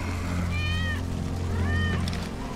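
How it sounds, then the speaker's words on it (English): A cat meows twice within the game Final Fantasy VII, two rising-falling cries about a second apart over a steady low hum of background game music. "That's Wedge's cat."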